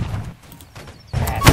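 A line of soldiers fires a volley in the musket-era game Holdfast: a ragged rattle of shots with a louder crack near the end, amid quieter pauses and faint background noise.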